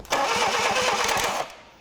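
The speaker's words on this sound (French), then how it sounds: "Mais Arnaud va devoir s'assurer que le moteur fonctionne toujours." An Austin Mini Countryman Woody under restoration cranks and fires, a close, loud engine start with rapid firing pulses for about a second and a half before cutting out.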